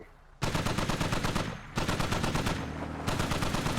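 Rapid automatic gunfire in Arma 2: Operation Arrowhead comes in long sustained bursts with a brief pause between them, loud and dense, with no speech over it.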